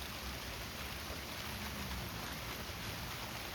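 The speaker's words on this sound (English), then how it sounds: "you can see the rain is coming down and running off." Steady rain falls over an outdoor landscape, running off surfaces as a faint, continuous hiss with no breaks or other sounds.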